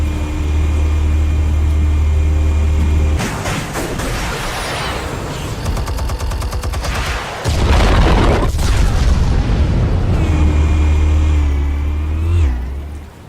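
Explosives detonate in a Batman video game: two loud, heavy blasts a few seconds apart break over a steady low engine-like drone, each followed by a rumbling tail.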